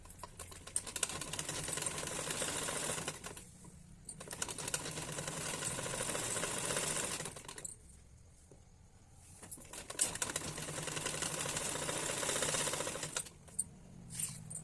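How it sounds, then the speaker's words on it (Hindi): A sewing machine runs a stitch along a salwar hem over canvas in long continuous stretches broken by short pauses, close up and without talking. "ये सिलाई हम पहले एक बार फ्री लगाएंगे।"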